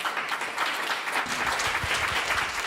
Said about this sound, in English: A round of applause for our lines